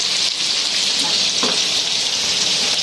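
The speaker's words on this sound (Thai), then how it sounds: "หนึ่งเมนู ทอดหมูแดดเดียวจ้ะ" Sun-dried pork sizzles loudly as it fries in hot oil, a steady close crackling hiss throughout with occasional soft stirring bumps.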